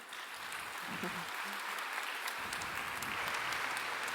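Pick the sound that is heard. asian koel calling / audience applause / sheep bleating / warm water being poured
audience applause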